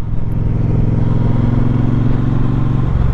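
A 2021 Triumph Speedmaster motorcycle with a stainless steel two-into-two exhaust idles nearby with a loud, steady, low rumbling throb that is constant throughout, with no talking.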